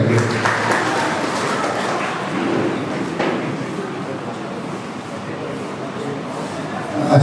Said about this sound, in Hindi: बहुत सारी तालियां हैं